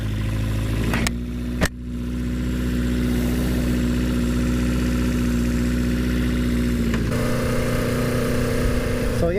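A 1977 Honda CB550 motorcycle engine idles steadily after being kickstarted, a close, continuous low putter with a brief sputter early on and a slight change in tone near the end.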